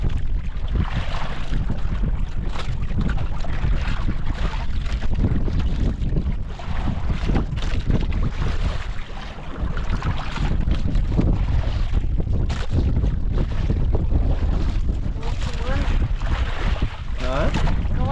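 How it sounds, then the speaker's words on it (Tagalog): Strong wind roars over the open sea around a small fishing boat, a loud steady rush with buffeting against the microphone that runs unbroken throughout, with a voice faintly underneath at times. "Tapos lumakas na rin hangin."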